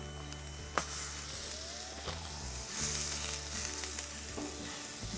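Two 3-ounce balls of 80-20 ground chuck sizzle on a hot griddle for smash burgers, a steady close frying hiss with a sharp scrape or clink now and then, no talk.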